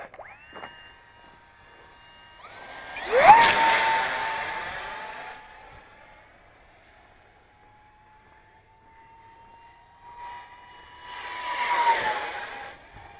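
An Arrows RC Viper 50mm electric ducted fan jet makes two loud whooshing passes with a high whining fan tone that rises, sweeps and fades, a long sustained whine trailing between the passes.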